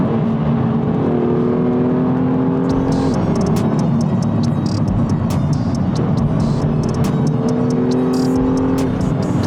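A BMW M4 with Stage 2 tuning and Akrapovic exhausts roars and accelerates through rising gear pulls, with a whining drivetrain and rapid ticking clicks over the constant loud drone.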